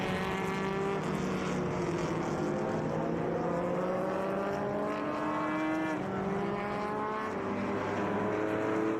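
Vintage race cars from three SVRA groups at Mid-Ohio thunder past in a continuous loud engine roar, several overlapping tones climbing in pitch as they accelerate, with no talk.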